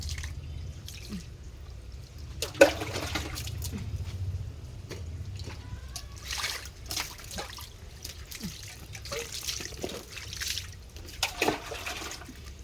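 Water is poured and splashes while a dog is being bathed, giving intermittent drips and trickles at a modest level, with a faint voice now and then.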